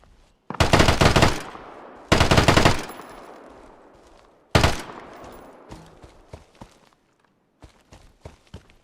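Three loud bursts of automatic gunfire from the survival shooter Deadside, each a rapid clattering volley that rings out and fades, followed by quieter scattered clicks and footstep-like taps.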